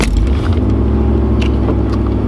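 A third-generation Camaro's LB9/L98 Tuned Port Injection V8 idles after repairs, a loud, deep, continuous rumble with a steady low throb and a few faint clicks on top.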